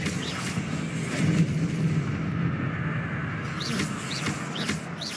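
Confringo fire spell blasts in Hogwarts Legacy, heard as a sustained roaring, rumbling explosive wash with whooshing magical flares and faint chirping effects over a dense game soundscape, without talk.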